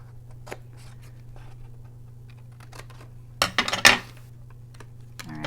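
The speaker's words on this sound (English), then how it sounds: "So in the same way I cut, I'm going to cut to that second line, take off those two squares." Scissors cutting paper for a handmade spider-themed card, a quiet room with a low hum, a few soft snips early and then a short burst of louder crisp cuts and paper rustle near the end.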